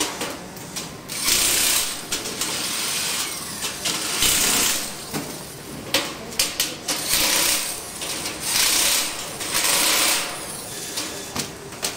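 Electric wrench tightening nuts and bolts while a slotted angle rack is assembled, giving repeated loud bursts of whirring, rattling impact with brief pauses between runs.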